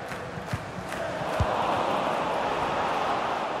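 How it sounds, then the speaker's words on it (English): Stadium crowd noise from an EA FC 25 football match, Crystal Palace against Manchester United, a steady broad roar that swells and holds near the end of the game, with a few sharp thuds early on. "Well, just listen to this crowd."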